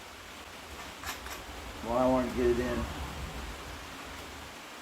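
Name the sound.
rain falling outdoors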